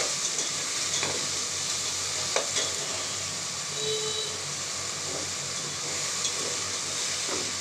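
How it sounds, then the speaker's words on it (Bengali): Ginger, garlic and green chili paste with spices frying in a pan, giving a steady close sizzle with occasional stirring scrapes and no talking. "আদা রসুন কাঁচামরিচ বাটা, একটু মশলাগুলো হালকা ভাজা হলে"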